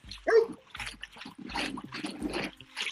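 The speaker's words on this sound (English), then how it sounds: "That's a big old German Shepherd up here where I'm at" A big German Shepherd barks in a series of deep, uneven woofs spread across a few seconds, fairly close, with some whining between the barks.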